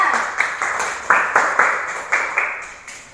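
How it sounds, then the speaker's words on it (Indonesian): A class of pupils claps for a classmate in a classroom, giving sharp rhythmic bursts roughly twice a second that ring briefly in the room, loud and near with no speech over them. "Beri tepuk tangan untuk teman kita."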